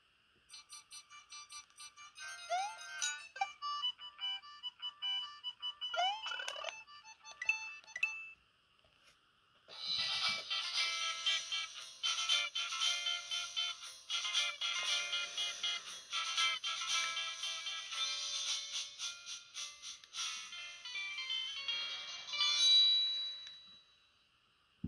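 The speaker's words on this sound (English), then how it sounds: "that's Super Nintendo games with CD quality audio" CD-quality MSU1 soundtrack from a Super Nintendo game, beginning with chiming, beeping electronic tones, then after a brief gap a bright, dense, steady stream of music that swells loud near the end.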